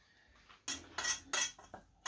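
Dishes clattering in a home kitchen as a plate is picked up among them, with several sharp ceramic clinks and knocks in quick succession, close and clear, and no talk.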